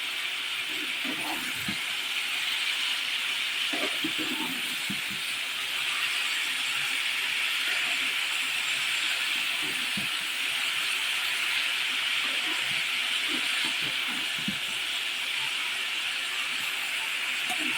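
Constant loud hiss and steam of mixed vegetables cooking in a pan with a little added water, broken by faint scattered clinks and scrapes of stirring.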